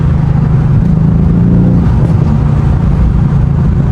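A 500 hp AMG car driving at night, its engine droning loud and steady from inside the cabin with a deep low rumble and slight shifts in pitch as it changes gear.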